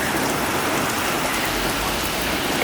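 Hail and rain fall together in a windy storm in Santa Monica, California, a loud, dense, unbroken roar of drops striking surfaces close by, with no voices.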